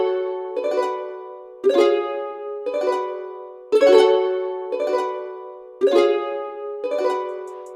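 A synthesized chord-phrase instrument plays a syncopated beat pattern, with seven plucky stabs that each decay quickly and vary in loudness, heard alone without drums.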